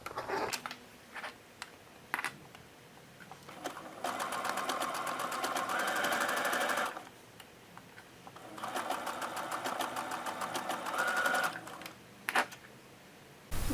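A sewing machine stitches a blind hem in two long bursts of rapid, steady needle clatter, separated by quiet pauses with a few faint handling clicks.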